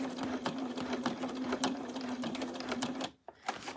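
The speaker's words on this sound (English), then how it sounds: "Hopefully it's going to do that locking stitch for me" A sewing machine runs a locking stitch close by, a fast, steady mechanical whirr with rhythmic needle ticks that stops briefly near the end and then restarts.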